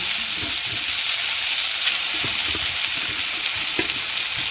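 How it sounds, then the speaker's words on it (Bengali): Potato chow mein noodles frying in hot oil in a wok give a steady, loud, close sizzle that runs throughout, with a few soft stirring knocks and no voices. "চাউমিন নিয়ে নিয়েছি কড়াইতে দিয়ে দিচ্ছি তেলের ওপরে দিয়ে দিয়েছি চাউমিন"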